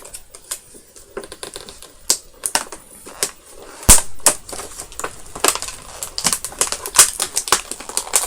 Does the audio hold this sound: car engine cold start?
no